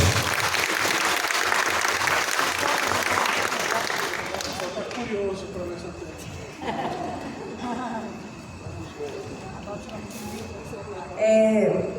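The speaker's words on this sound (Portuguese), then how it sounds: "Uma salva de palmas." An audience applauds loudly for several seconds, the clapping fading out as scattered voices and murmuring take over.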